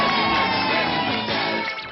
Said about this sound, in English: Give them both a great big cheer.